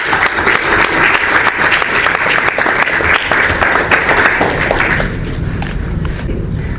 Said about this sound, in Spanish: Un fuerte aplauso para empezar el programa.